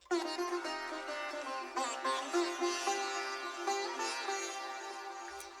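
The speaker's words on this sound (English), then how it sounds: "what you can hear is the delay that I put on the sitars" A sampled sitar plays a bright, twangy melodic phrase with buzzing, drone-rich strings, washed in a long Valhalla Supermassive delay so the notes smear and echo into a continuous shimmering tail, alone with no talk.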